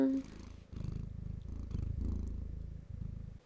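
A cat purrs close to the microphone in a steady, rumbling rhythm of repeated breaths, fairly loud and continuous, with no talk over it.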